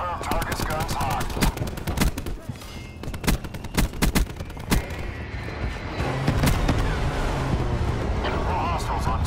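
Aircraft cannon fire during a close air support strike in a video game: loud, sustained bursts of rapid gunfire with sharp individual cracks, layered over a constant engine drone, with radio voices talking over it.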